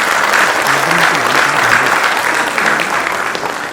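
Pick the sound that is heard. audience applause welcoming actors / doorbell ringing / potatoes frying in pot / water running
audience applause welcoming actors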